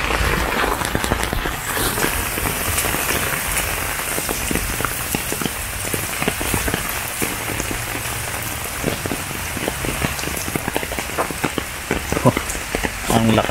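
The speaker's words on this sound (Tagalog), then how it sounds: "Ang lakas ng ulan." Heavy rain in the Philippines pounding a surface, dense and continuous with sharp drops spattering close by.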